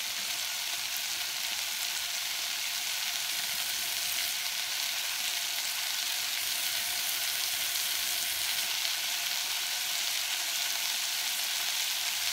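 Chicken pieces sear in a hot pan for coq au vin, first skin side down and then meat side, giving a loud, close, unbroken sizzle that holds steady throughout with no talking.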